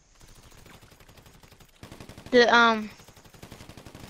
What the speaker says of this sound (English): He shot me through a wall.